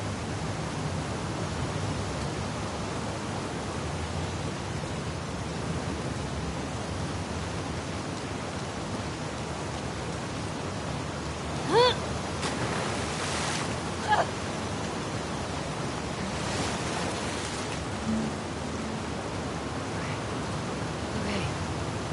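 A flowing water current and waves in The Last of Us Part II make a steady, broad rushing wash that fills the whole stretch, with a few faint splashes and knocks rising briefly above it.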